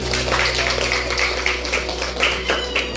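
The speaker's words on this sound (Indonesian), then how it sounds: "Tepuk tangan dulu." A school class claps together for a classmate's answer, a dense run of steady, near-rhythmic hand claps filling a room with a faint electrical hum beneath.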